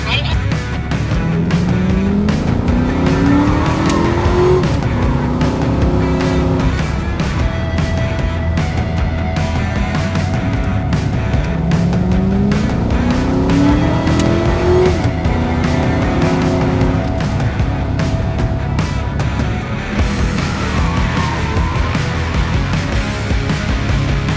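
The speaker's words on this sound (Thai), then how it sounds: "600 กว่าม้านะครับ อยู่ในคันนี้เราจะมาเหยียบให้มิดทางตรงกัน" A powerful car rated at more than 600 horsepower is floored at full throttle on a straight, its loud engine roaring and climbing through repeated rising gear sweeps. Tire noise comes through, and voices can be heard over the engine.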